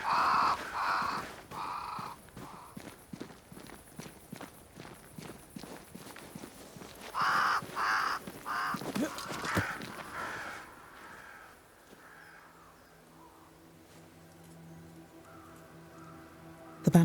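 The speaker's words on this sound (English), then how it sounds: "Crows. They flock to that great tree up there." A flock of crows gathered around a great tree in Banishers: Ghosts of New Eden caws in loud, repeated rhythmic bursts, with a second flurry of calls before fading into a low ambient hum and distant soft calls.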